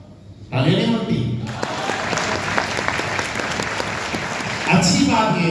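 A crowd breaks into loud, sustained applause during a Hindi speech, the dense clapping lasting about four seconds before dying down, with the speaker's voice heard just before and after.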